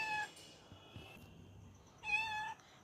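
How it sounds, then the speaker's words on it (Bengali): A cat meows twice, a short call at the start and a longer one near the end, close and fairly loud with a quiet pause between them. "বড্ড ম্যাও করছি"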